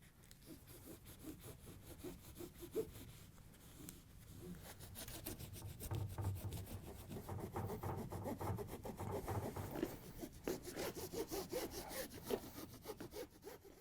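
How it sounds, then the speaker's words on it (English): Scraping foam tape residue from the glass edge of a GE cooktop makes quiet, rhythmic rasping strokes that grow denser and a little louder midway, close up with no talking. "we want to go around the whole edge and remove all this residue"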